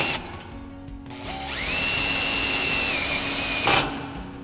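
A power drill drives a self-tapping screw while a Magna Latch child safety latch is installed, whining up to a steady high pitch for about two seconds before stopping, close and fairly loud.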